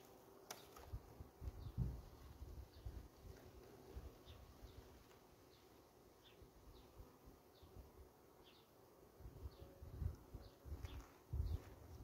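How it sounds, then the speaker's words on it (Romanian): Honeybees buzzing around open hive frames while queens are checked, a low steady hum close by, with occasional handling knocks and rustles. "Și aici sunt un pic albine mai puține."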